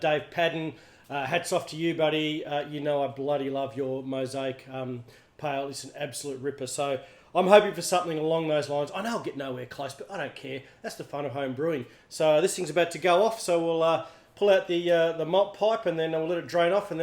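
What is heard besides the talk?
No everyday noises stand out.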